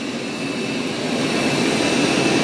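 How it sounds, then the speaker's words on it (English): Dreame robot vacuums, an L20 Ultra and an X30 Ultra, run with a steady, loud, broadband whooshing hum that swells slightly, alone without talk. "they both sound exactly the same when they're vacuuming"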